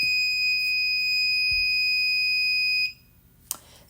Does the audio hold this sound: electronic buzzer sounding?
yes